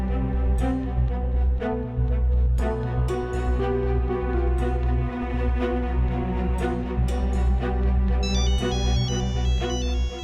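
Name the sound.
phone ringtone ringing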